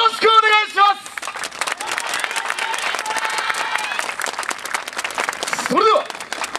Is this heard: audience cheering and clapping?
yes